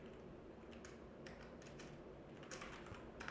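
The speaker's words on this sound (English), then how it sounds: "I'm just typing Python 3 -- version" Keys clatter on a computer keyboard in short irregular bursts, quiet and close, with a few sharper clusters of strokes toward the end and no talk.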